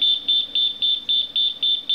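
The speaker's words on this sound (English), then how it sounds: "This causes the alarm to be triggered." A Water Watch diesel fuel water alarm sounds in a vehicle, giving a rapid, evenly spaced series of shrill electronic beeps, about eight in two seconds, loud and close.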